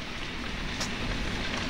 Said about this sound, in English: rain, heavy rain